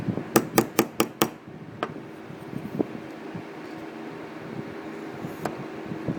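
A quick run of five or six bright metallic hammer taps knocking stuck pins out of a straight razor, then a few scattered single taps over a steady background hum.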